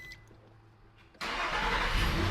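A car engine cranks and fires after being jump-started with an Oxilam Y5 jump starter, a quiet interior giving way abruptly to a loud, steady close-up engine roar that holds to the end.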